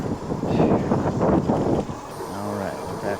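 Strong wind buffets the microphone while riding an Aventon e-bike on a road by a swamp, a loud continuous roaring rumble that eases slightly partway through, with a faint low hum beneath.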